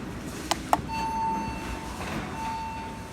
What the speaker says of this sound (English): Let's go and ring the bell.